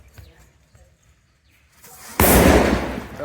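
After a quiet stretch with faint rustles, a firecracker goes off with a loud sudden blast that crackles and hisses as it trails away.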